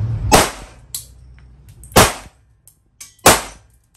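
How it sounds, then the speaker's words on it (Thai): A Zoraki 917 blank pistol, a Glock 17-style blank gun, fires mixed-brand blank cartridges one at a time: four sharp, loud, close cracks at uneven intervals, with fainter clicks between them and no talking. "มันสามารถยิงลูกปืนได้ทุกยี่ห้อนะครับปืนตัวนี้ไม่เลือกลูกนะครับ ผสมทุกยี่ห้อเลยอย่างละนัด"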